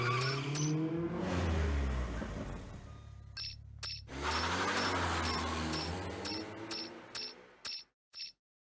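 A Mazda RX-7 in the racing game Need for Speed Underground revs and accelerates hard, its engine note sweeping up through gears with tire squeal, loud and close, then a few short clicks near the end.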